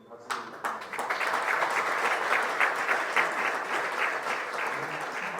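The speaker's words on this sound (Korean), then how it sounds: "다시 한번 박수 드립니다" Applause at a shared-growth forum, starting with a few sharp claps that swell into steady, sustained clapping from a seated audience, close and without talk.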